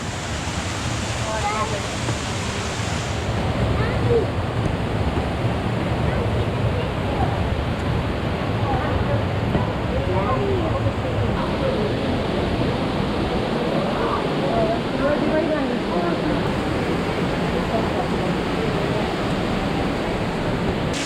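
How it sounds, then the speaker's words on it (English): Rainbow Falls spills into a stone gorge, its steady broadband rush of falling water close and continuous throughout, with footsteps and faint trail noise beneath and no voices. "We are currently walking underneath Rainbow Falls, and the water is falling here off to our right-hand side"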